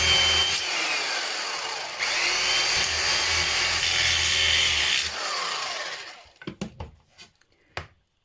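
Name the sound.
drilling holes through cans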